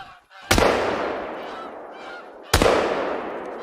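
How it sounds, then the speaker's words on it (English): Geese honk in the hunting game theHunter: Call of the Wild, set around decoys and a blind. Two sharp gunshot-like bangs ring out with honking calls in their tails, and there is no speech. "So that's the new added animal to the Hunter Call of the Wild. It is the goose."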